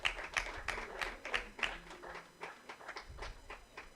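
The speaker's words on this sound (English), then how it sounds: "you can hear the applause all around from the crowd" Spectators at a women's Pro20 cricket match between North West Dragons and Dolphins clap after a wicket falls, a thin, fairly distant patter of hand claps in a loose rhythm.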